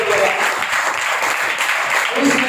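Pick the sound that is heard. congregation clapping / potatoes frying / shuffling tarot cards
congregation clapping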